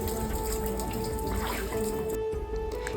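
Water pours steadily from a carved cow-face stone spout into a temple tank at Kadri temple in Mangalore, a continuous close splashing flow with a faint tonal hum beneath.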